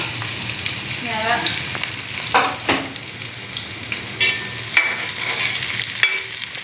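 Garlic, ginger and green chillies fry in hot oil for a Kothamangalam-style chicken curry, with a continuous close sizzle broken by repeated scraping and clattering as a spoon stirs the pan.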